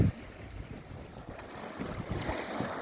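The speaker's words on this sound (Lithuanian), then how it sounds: "Nu, mane laimingai išmeta į krantą bangos." Waves push a small boat onto the shore: a brief rush of surf and water against the hull, with gusty wind buffeting the microphone.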